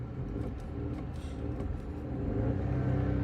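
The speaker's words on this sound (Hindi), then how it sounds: "एक बार आरपीएम बढ़ा के देखता हूँ," Volkswagen Virtus TSI petrol engine revved up from idle, a deep continuous rumble that swells in loudness toward the end, heard close and with no talking.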